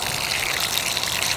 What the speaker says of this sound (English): Do a quick rinse.